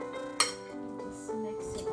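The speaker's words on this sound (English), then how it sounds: "We'll add 2 eggs. And then we simply mix." A metal spoon clinks against a bowl while mixing pork lumpia filling with two eggs, one sharp close clink among softer scraping, with background music throughout.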